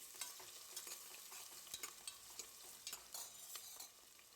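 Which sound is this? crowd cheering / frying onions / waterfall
frying onions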